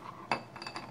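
A utensil stirs chocolate praline mixture with egg yolk in a bowl, one clear clink followed by a few lighter scraping taps, close and brief with no talking.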